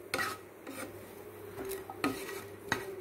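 Garlic dry-roasting in a pan without oil while a spoon stirs and scrapes it, giving several distinct scraping strokes over a faint low background.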